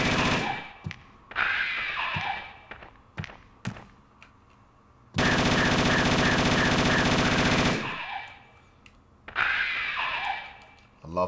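Sustained weapon fire from Chris Redfield's gun in a Resident Evil HD remaster, with sharp bursts and several seconds of rapid, loud machine-gun-like fire, interspersed with thuds, mechanical clatter and quieter gaps.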